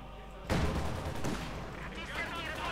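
A howitzer artillery blast in Company of Heroes 2, one sudden heavy boom followed by a rumbling decay and scattered battle noise, with a voice talking over it.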